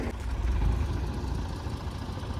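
A tractor engine runs at a steady idle on a work site, a continuous low rumble with an even throbbing beat that stays close and loud throughout, with no voices over it.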